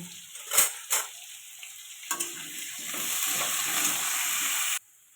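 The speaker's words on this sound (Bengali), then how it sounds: "লবণ দিয়ে দিলাম একটু হলুদ দিয়ে দিলাম এটা ভালো করে ভেজে নেব" Potatoes fry in oil with salt and turmeric, opening with a couple of utensil clatters and stirs before a steady, close sizzle that cuts off abruptly near the end.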